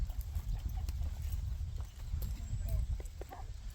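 Horse hooves clop softly on the ground in an uneven walking rhythm, with a low rumble of wind or handling noise and some distant talk.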